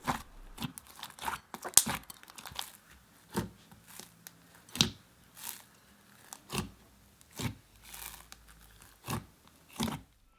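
Clay being worked by hand into a soft butter slime, a series of close, squishy crackling presses and pulls in an uneven rhythm, quiet and without talk.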